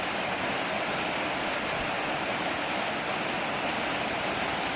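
A multi-tiered waterfall at Sap Sombun in Nakhon Sawan, Thailand, roars as a dense, steady wash of falling water, close and unbroken, with no voices.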